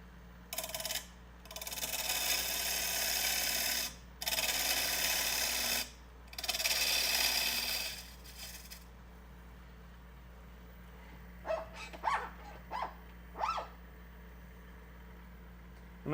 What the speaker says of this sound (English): I'm going to come through with a pull cut and remove some of this.